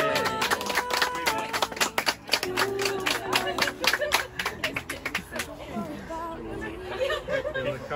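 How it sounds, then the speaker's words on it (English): Guests at a baby shower clap together in a dense, lively burst of applause that thins out toward the end, with chatter and voices mixed in throughout. "I'd like you to give Katie a round of applause"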